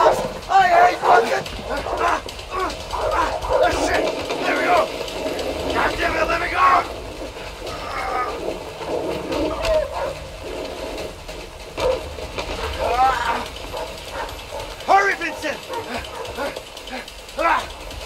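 In the video game A Way Out, a dog barks and yips repeatedly during a chase, over game noise and players' excited talk.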